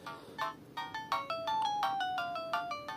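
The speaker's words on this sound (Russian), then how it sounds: "И я сюда, короче, перекачал несколько рингтонов с другого телефона," A polyphonic ringtone melody played on a Siemens C72 mobile phone, a steady sequence of bright beeping tones in a simple tune, close and clear with no talk.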